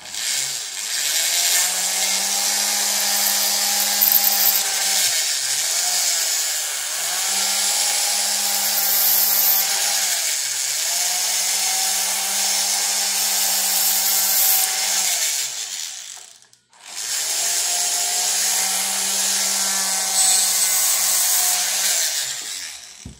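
A fine, high-pitched whirring drill bites steadily into a metal coin in repeated strokes, with a brief pause before it resumes, no voices present.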